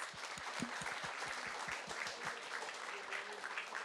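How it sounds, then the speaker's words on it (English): An audience applauds at a talk about leaving Hasidism, the scattered claps of a modest crowd carrying steadily through the whole moment at a fairly soft, even level. "Can we have a round of applause?"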